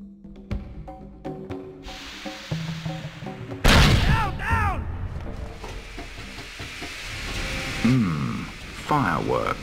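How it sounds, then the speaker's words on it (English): Sharp bursts and crackling explosions of fireworks in the 2001 game 007: Agent Under Fire, set against a musical score, with a loud blast partway through followed by shouting voices and further crackles. "Fireworks."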